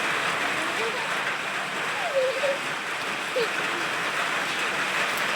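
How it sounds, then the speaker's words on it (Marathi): Rain falls in a steady, broad hiss through a sunny spell, with a few faint splashes and someone talking briefly beneath it. "बघ सई किती पाऊस आला."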